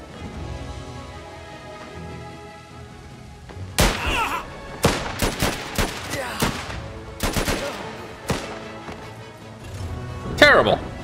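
Gunfire in the strategy survival game Last Train Home: a burst of loud, sharp shots in irregular clusters over a low rumbling bed, with a final flurry near the end.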